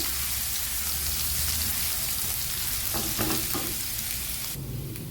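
Sliced ginger fries in hot oil in a pan, a dense, steady sizzle with crackling spatter throughout, loud and close, briefly interrupted by a few stirring clinks.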